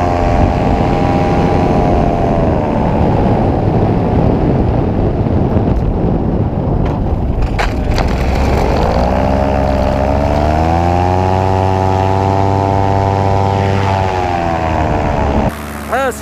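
A 2018 paramotor air trike engine runs at full throttle during a takeoff run, a loud, steady droning roar with wind buffeting that climbs in pitch as the craft speeds up and lifts off, then holds steady.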